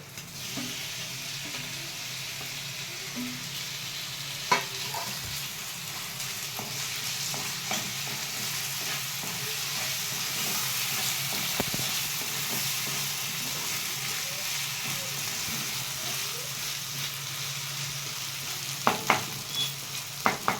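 Tomatoes frying in a pan for a fenugreek-leaf egg curry, with a steady sizzle running throughout and occasional spoon scrapes and knocks from stirring, clear and close with no talking.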